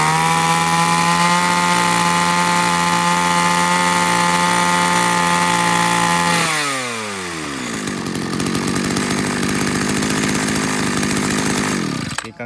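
A Tanaka Powermate brush cutter engine runs loud and close, holding a steady buzzing whine, then sliding down in pitch and settling into a rougher, continuous roar until it cuts off.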